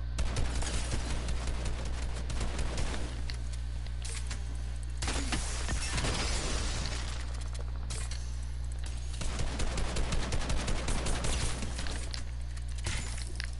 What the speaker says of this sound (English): I'm getting shot at by something.